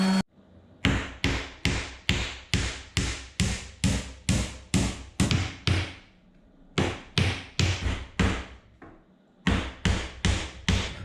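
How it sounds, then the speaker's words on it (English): Repeated sharp hammer blows on wood pallet boards in a steady rhythm, about two per second, close and loud, with a few brief pauses between bursts. "I have to take a break from all of the hammering for now"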